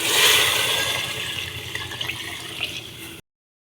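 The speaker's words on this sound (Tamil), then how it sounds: "6 டம்ளர் தண்ணி இதில் சேர்த்துக்கிறேன்" Water gushes steadily into a cooking pot holding rice and lentils, about three seconds of loud rushing pour that tapers slightly before stopping abruptly.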